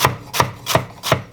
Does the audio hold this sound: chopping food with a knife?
yes